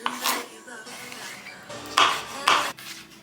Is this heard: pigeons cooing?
no